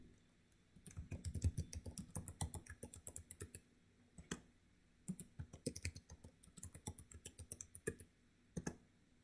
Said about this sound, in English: then we'll type in a password.